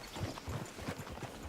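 Horse hooves clip-clop in Red Dead Redemption 2, a quick steady trot of soft thuds, fairly faint and close, with no talk.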